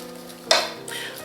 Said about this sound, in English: we're gonna add the eggs one at a time so that we make sure they're good and mixed in